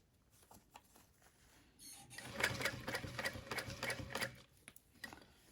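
Sewing machine running a seam on a backpack, a soft rapid mechanical chatter that swells in the middle and fades, faint and close.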